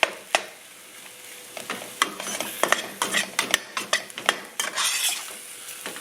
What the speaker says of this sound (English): So we're going to brown this all the way through.